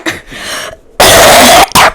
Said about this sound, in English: Don't cough in the mic.